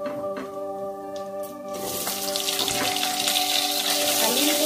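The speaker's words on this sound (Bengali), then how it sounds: "এবার আমি ফোরনের সাথে আলুটাকে ফ্রাই করব।" Potatoes hit hot oil with whole spices for a jackfruit curry, the sizzle surging suddenly and then holding as a steady, bright hiss that grows slightly louder, close by, over a faint tonal hum.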